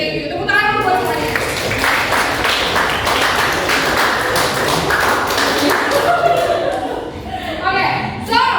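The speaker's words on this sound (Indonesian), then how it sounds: "Tepuk tangan buat semuanya." An audience of students in a university classroom claps steadily for several seconds, a dense, close burst of many hands that eases slightly near the end.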